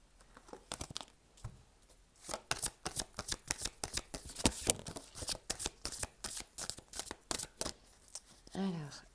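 Tarot cards being shuffled for a card reading, a long, dense burst of quick riffling snaps and flutters, close and steady, tapering into a softer rustle at the end.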